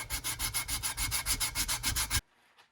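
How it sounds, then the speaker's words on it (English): Rhythmic back-and-forth scrubbing with 80-grit sandpaper on a 1973 Toyota Celica wheel rim, about a dozen strokes at a steady pace, close and loud, then stopping abruptly into near silence. "I just finished sanding with 80 grit"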